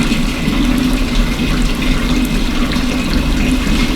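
Water runs steadily through the cooling chamber of a distillation machine at a polytechnic, a continuous loud rushing with a low hum beneath, no voices.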